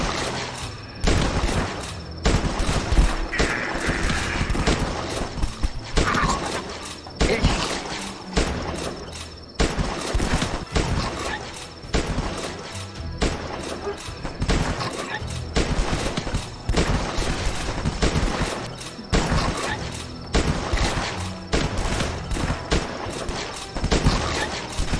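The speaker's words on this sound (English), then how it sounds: "This is the goddamn hunting rifle. It is the second best weapon in the game." A hunting rifle fires in the video game The Last Stand. It gives repeated booming shots in a steady, almost rhythmic series over mechanical reload clicks, with a voice talking at times.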